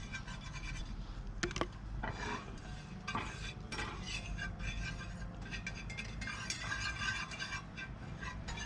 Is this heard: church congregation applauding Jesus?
no